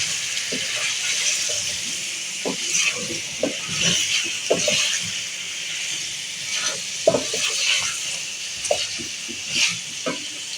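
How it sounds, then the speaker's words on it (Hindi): Chicken and tinda (round gourd) frying together in a pan give a steady, even sizzle, broken by frequent scraping and clicking as they are stirred, close and moderately loud. "इस चिकन को भी मैं इसके साथ ही भूनूंगी।"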